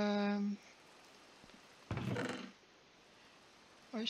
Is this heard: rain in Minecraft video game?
yes